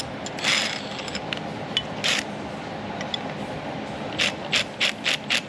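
A wrench ratchets as it tightens the driveshaft coupler bolts on a Jaguar XF with a rubber driveshaft coupler. Short bursts of close metallic clicking come early, then a quick run of repeated ratchet strokes near the end, with no talk.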